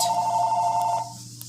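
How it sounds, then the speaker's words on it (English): A telephone rings with a steady electronic tone, an incoming spam call, sounding fairly loud and close for about a second before cutting off, leaving a low background hum. "If I get one more spam phone call"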